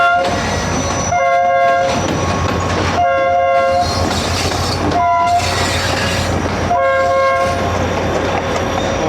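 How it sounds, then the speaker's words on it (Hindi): Loud train horns sound in repeated long blasts between two locomotives passing each other on the Pakistani railway from Mirpur Khas to Lahore, traded back and forth as a salute over continuous rumbling wheels and clatter. "सलामी दी गई भाई। Whistle exchange"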